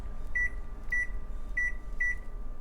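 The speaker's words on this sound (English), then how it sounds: "I'm gonna set the timer for 20 minutes." Oven timer being set for 20 minutes: four short, evenly spaced electronic beeps over a steady low background hum, with no talking.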